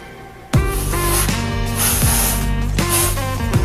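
Sharp puffs of air blown through a drinking straw onto wet watercolor paint, heard as several loud, breathy hissing blasts in quick succession, close to the microphone.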